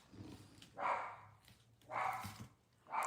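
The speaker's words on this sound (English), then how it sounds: "Do you hear my dog?" A dog barks indoors a few times in a steady rhythm, moderately distant and fairly quiet, with no talk over it.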